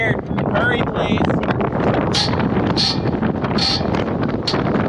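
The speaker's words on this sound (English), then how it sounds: "it is so windy that the leg is shaking and I'm getting concerned" Strong wind buffets a grain leg on a farm, roaring and gusting steadily right at the microphone, with a few higher whistling or rattling bursts mixed into the loud, constant blast.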